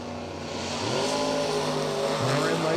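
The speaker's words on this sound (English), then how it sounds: "Frank Thompson left lane in the 93 Mustang." Drag race engines revving at a creek dragstrip, a Camaro and a 1993 Mustang, heard as loud, rising engine drones with pitch climbing in steps as the cars accelerate, no talking.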